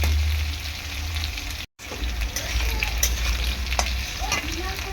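Potatoes frying in hot oil, a steady broadband sizzle with scraping stirs and a brief cut in the sound near the start; no talking.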